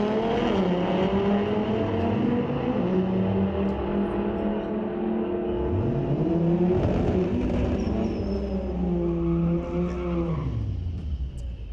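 Street-legal drag racing cars at Mission Raceway Park roar and accelerate down the strip, loud engines climbing through gear changes with rising and falling tones, one car surging past at close range.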